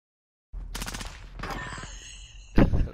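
Rapid video game gunfire bursts in after a moment of silence, a rattling fusillade of shots followed by a louder sharp volley at the end, close and punchy.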